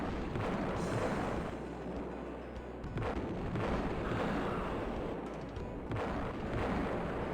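Cannon fire and explosions boom from a retro first-person shooter video game, with dense, continuous rumbling blasts filling the clip and sharper impacts recurring every few seconds, loud and close.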